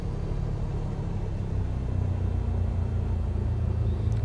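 Simulated light-aircraft piston engine in Microsoft Flight Simulator 2020 held at about 1000 RPM on the ground at Penang, a steady loud low drone and rumble with no talk.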